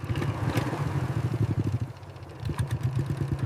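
A cartoon-style motorcycle engine sputters with a rapid, uneven putter that falters, dips briefly, then chugs again, loud and close throughout.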